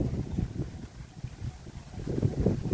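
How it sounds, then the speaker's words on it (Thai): Cool wind blowing through a rural home garden in Udon Thani, Thailand, a steady low buffeting rumble that gusts stronger toward the end, with no one talking. "ลมเย็นดีค่ะพี่น้อง"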